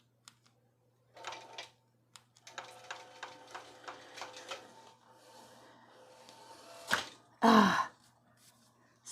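Longarm quilting machine fitted with a brand new motor, running in quick rhythmic ticking, clattering stitches that pause and restart, ending in a couple of louder mechanical bursts.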